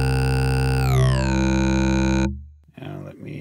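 A software synthesizer filterbank puts out a loud, sustained buzzy tone with stacked filter peaks that glide upward and then hold steady. It cuts off abruptly and gives way to faint talking and clicks.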